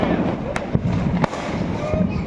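Firecrackers burst outdoors as two sharp, short pops about 0.7 seconds apart, with people talking throughout over a busy background.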